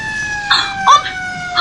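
A fire truck siren holds a steady, high tone throughout, with brief louder bursts of other sound breaking over it.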